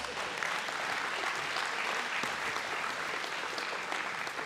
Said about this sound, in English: Hey, give yourself a round of applause.